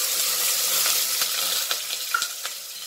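Ground masala paste sizzles and fries in hot oil, a bright continuous crackle with a few sharp spits and pops toward the end, heard close up with no voices.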